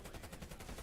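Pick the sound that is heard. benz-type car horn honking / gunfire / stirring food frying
gunfire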